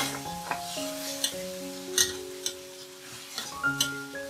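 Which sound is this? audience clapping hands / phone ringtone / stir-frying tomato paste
stir-frying tomato paste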